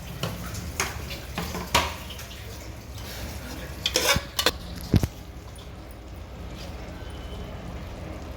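Onion and potato frying in a pan while being stirred, a soft sizzle broken by scattered metallic scrapes and clinks of a utensil against the pan, louder knocks near the middle.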